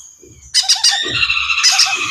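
Baby ring-necked parakeets squawk loudly up close, a dense chorus of shrill, rasping calls that erupts after a brief quieter start and keeps going.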